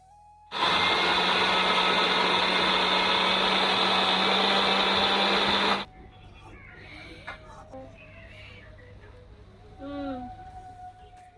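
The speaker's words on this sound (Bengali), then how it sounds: "আমি এখন চাল গুঁড়া করতেই যাবো" An electric grinder whirs steadily and loudly for about five seconds, grinding rice into powder for alpona at a home Lakshmi puja, then cuts off abruptly. Quieter household sounds and faint voices follow.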